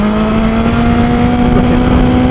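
BMW S1000XR motorcycle engine on a test ride, a loud steady drone holding a high, slowly rising pitch under wind rush, close and continuous.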